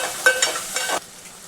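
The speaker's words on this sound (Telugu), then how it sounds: "ఇలా ఉల్లిపాయ ముక్కలు బాగా ఉప్పులో కలిసేలాగా తిప్పుకోవాలి." Onion pieces tossed with salt in a hot pan, a close scraping stir with a soft sizzle that rises in a few bursts, then drops to a faint hiss about two-thirds of the way through.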